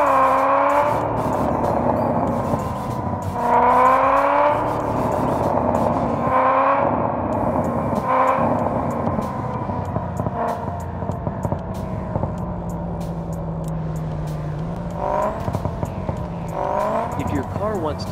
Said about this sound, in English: Sound like this, don't forget to use a V8 engine guys.